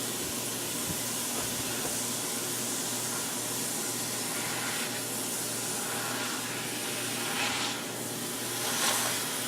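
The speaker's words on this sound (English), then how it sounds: "So we're just going to brown this up." Cheap hamburger meat browns in a pan for cowboy beans, giving off a steady, even sizzle that hisses close by with no pauses and no talking.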